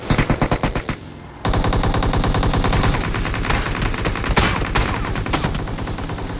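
Rapid automatic gunfire from cover fire in a video game firefight. It opens with a short burst, then runs as loud sustained machine-gun fire with dense overlapping shots, and no voices are heard.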